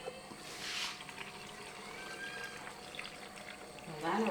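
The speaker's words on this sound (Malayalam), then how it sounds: "ഈ വെള്ളവും കൂടെ അങ്ങോട്ട് ഒഴിച്ചു" Salt water is poured from a vessel over gooseberries and kanthari chillies for a pickle. A soft, steady liquid pour and trickle runs for a few seconds under a quiet voice.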